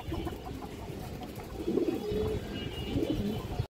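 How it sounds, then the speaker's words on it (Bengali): Young home-bred pigeons, some of them black, cooing in a loft, with low throaty coos swelling in a few bursts over a constant close rumbling background. "এই যে দেখেন এগুলো আমার ঘরের বাচ্চা কবুতর"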